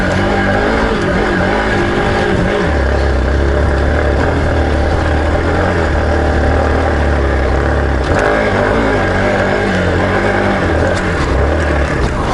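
A Hero XPulse 200 4V motorcycle revs hard off-road as its wheel spins, a loud sustained engine drone holding near-steady pitch for long stretches.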